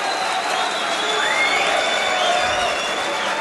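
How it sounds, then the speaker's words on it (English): A German darts crowd at the German Darts Masters cheers and applauds steadily after Marcel Hausotter wins a leg, a loud, dense wash of clapping and shouts from a large arena audience that continues throughout. "And the German crowd love it."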